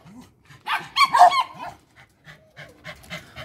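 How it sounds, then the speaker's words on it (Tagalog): Several dogs in a garden making a racket close by: sharp barks, whines and panting in uneven bursts, loudest early, then trailing into quieter yips. "Mga aso ang iingay."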